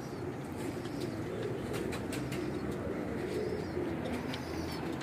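Breeding pairs of domestic pigeons cooing in a loft on a cold day, a continuous low, murmuring coo from several birds close by, with faint chirps and a steady background hum and no talk.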